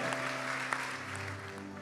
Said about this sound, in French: Acclamez pour le don de la vie.